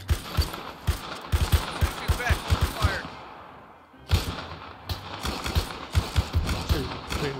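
Gunfire rattles in a WWII video game set in Tunisia, North Africa, in November 1942: rapid, loud bursts of close shots that break off briefly midway, then resume.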